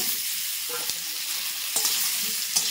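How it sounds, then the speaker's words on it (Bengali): Chopped mangoes stirred in hot mustard oil with cumin in a wok, a steady sizzle throughout with a few soft scraping stirs of the spoon at intervals. "আমগুলো দিয়ে ভালো করে নাড়াচাড়া করে নেব।"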